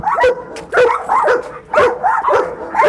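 A dog barks in loud, close bursts, about four sharp woofs in a row, some with whining yips between them.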